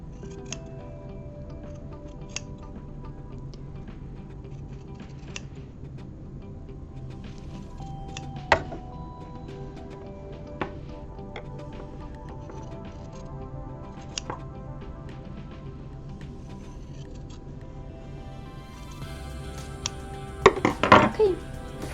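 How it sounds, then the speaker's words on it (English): Fabric shears trimming a seam allowance on a sewing project, a steady run of soft, close snips with small clicks through most of the stretch, ending in a louder burst of cutting. "take your shears and trim that seam allowance"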